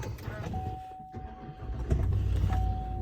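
A 2020 Chevrolet Silverado 2500HD LTZ pickup starts up from inside the cab, a brief crank followed by a low engine rumble that swells and settles into a steady idle, with a faint electronic chime running through it.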